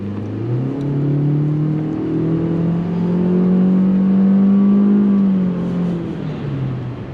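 A 2021 Toyota C-HR accelerates while driving, its engine drone rising steadily in pitch and loudness, easing off, then climbing again, heard from inside the cabin with no talking.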